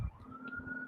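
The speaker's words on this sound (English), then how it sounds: "I have a siren going on in the background" A siren wails faintly in the distance outdoors, a sustained steady tone under a low background hum, lasting under a second.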